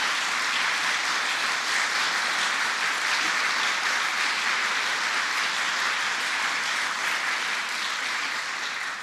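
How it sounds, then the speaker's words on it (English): Sustained, dense audience applause for New Yorkers at a governor's reopening announcement, steady and loud throughout with no voices on top. "Give New Yorkers a round of applause."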